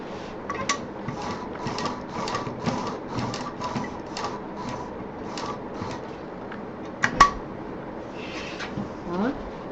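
Bursts of rapid mechanical stitching from a sewing machine working on a homemade college bag, several short runs of clattering needle strokes separated by pauses, with a sharper knock near the end.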